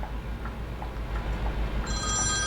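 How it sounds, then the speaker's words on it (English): A telephone rings in a room, its bell tone repeating through a low steady hum, clearest toward the end, with no voices. "He will not stop ringing until I have answered the phone."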